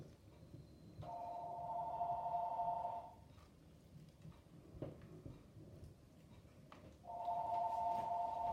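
A landline house telephone rings indoors in two long electronic trilling bursts separated by a quiet gap of several seconds, clear and moderately loud.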